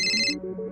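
A phone ringtone plays briefly and close up, a quick run of bright melodic electronic notes lasting under a second.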